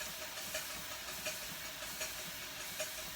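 An Allen Mogul steam locomotive model running on air gives faint, rhythmic stack-exhaust chuffs over a steady hiss, evenly spaced beats about every three-quarters of a second.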